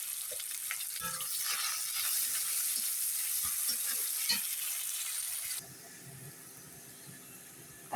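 Raw onion hitting hot oil with bay leaf and cumin while cooking Rajma masala, a loud steady sizzle with stirring scrapes that suddenly drops to a quieter hiss near the end.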